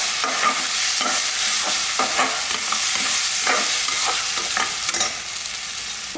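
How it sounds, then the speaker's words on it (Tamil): Pongal ingredients with salt are stirred and sautéed in a pot, a loud continuous sizzle with repeated scraping strokes of the spoon and no voices. "இது எல்லாமே நல்லா ஒரு வதக்கு வதக்கிக்கலாம்."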